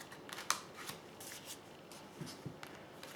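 Oracle cards being drawn and handled in a tarot-style reading, with soft papery shuffles and a crisp snap of a card, faint and close.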